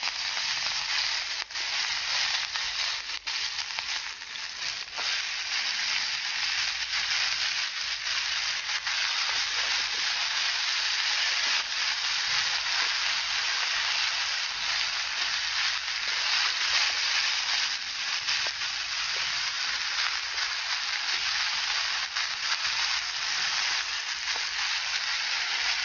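Wild flowers dry-roast in a pan with herbs and salt, giving a steady, even sizzle that continues without a break and with no voices over it.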